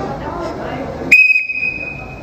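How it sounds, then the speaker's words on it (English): A whistle blown once at a fan convention trivia game, a sharp shrill tone that cuts through crowd chatter and holds steadily for about a second before the crowd noise returns. "you gotta let me blow my whistle"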